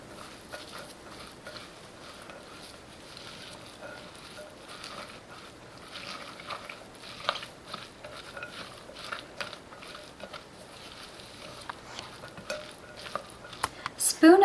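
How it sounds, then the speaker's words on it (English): Chopped sweet onion and carrot with cilantro and salt being stirred in a bowl, a steady soft scraping and clinking of utensil against dish that grows busier toward the end, close by with no talk. "just mix it until all the ingredients are well blended"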